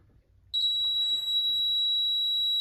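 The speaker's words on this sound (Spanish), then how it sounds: "se oye el funcionamiento del zumbador" A piezo buzzer wired into a closed battery circuit for a material conductivity test sounds a steady, loud, high-pitched continuous tone that starts abruptly and holds without a break.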